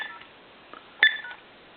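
One short telephone keypad tone beeps from a Bugs Bunny Tele Mania animated talking cordless phone under repair, a single sharp press amid near silence.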